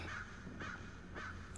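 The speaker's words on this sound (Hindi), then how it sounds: "कौए की आवाज से कौन डरा था यार" A crow caws three times at a steady pace in a horror video game, faint and somewhat distant over a low ambient hum.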